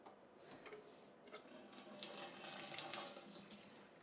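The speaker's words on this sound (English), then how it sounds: "then I'm going to throw some more water in there" Water running into an all-grain brewing system vessel for rinsing, a faint, continuous splashing trickle that builds slightly in the second half, with soft ticking clicks mixed in.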